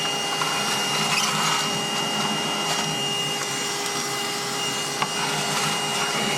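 Steady, close vacuum drone while bees are sucked out of a neglected nuc hive, with a faint rattling undertone and a brief click near the end.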